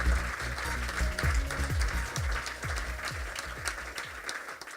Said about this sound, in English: Big round of applause and a big welcome to Mr. Paul Hartnoll.